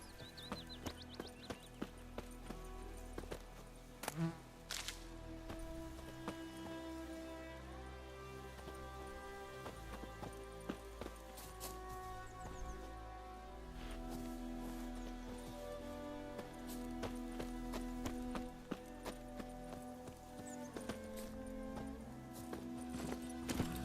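Horse hooves clop steadily under a layered music score with sustained tones, the rhythmic hoofbeats continuing throughout at a moderate distance, in the video game The Witcher 3: Wild Hunt.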